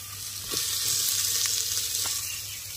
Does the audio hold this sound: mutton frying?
yes